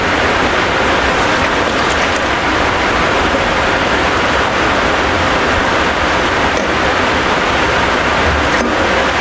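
Water pours steadily into a cooking pot for arroz caldo, a continuous broadband splashing rush lasting the whole stretch with no talk over it.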